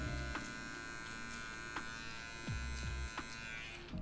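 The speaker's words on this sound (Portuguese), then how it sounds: "Vamos tirar, usando um ângulo de 45 aqui, só a quina da maquininha, ó." Hair clippers buzz steadily close by while trimming a mid fade, the corner of the blade set at a 45-degree angle; the drone dips and surges in pitch several times as the clipper bites into the hair, with no speech.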